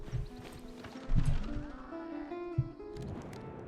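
Cavalry horses in Civilization VI clip-clop in a few spaced hoof strikes, with a neigh and game music underneath, fairly close and moderately loud.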